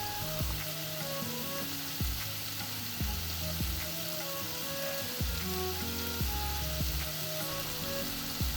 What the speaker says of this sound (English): Toss the paneer around for a minute or two